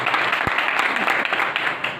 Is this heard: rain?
no